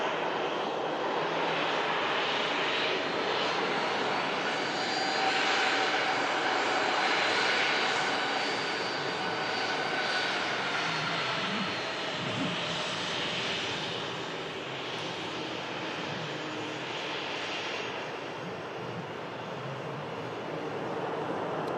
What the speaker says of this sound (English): Ryanair as well, just vacating, coming in from Alicante.